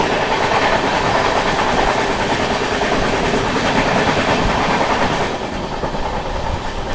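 The Purva Express rushes past close by with a loud, continuous roar and rhythmic clickety-clack of wheels on rails, easing slightly toward the end.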